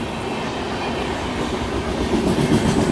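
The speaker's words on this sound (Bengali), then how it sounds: "চলে গেল হাওড়া শতাব্দী এক্সপ্রেস।" Howrah Shatabdi Express, train 12042 from New Jalpaiguri with a Vistadome coach at the rear, rumbles past close by in a loud, continuous roar with rhythmic wheel clatter and no voices.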